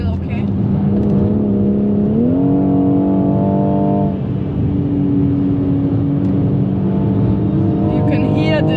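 A car lapping the Nürburgring drones loudly and steadily, the engine note climbing and dipping as stability control intervenes, with occasional voices inside the cabin.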